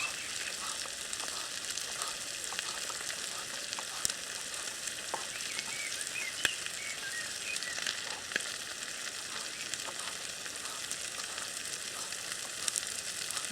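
Lamb steaks frying in oil in a RidgeMonkey Connect Combi pan, a constant close sizzle and crackle running throughout with occasional sharper pops.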